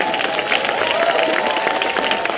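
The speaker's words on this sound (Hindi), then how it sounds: "अभी ताली मारो" An audience applauding at a university conference hall, a dense, steady wash of many hands clapping throughout at moderate distance.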